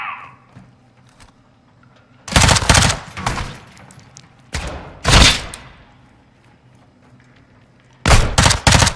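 Bursts of gunfire in the shooter Call of Duty Modern Warfare II, three loud separate volleys of rapid shots with quiet ambience between them, close and sharp, no voices.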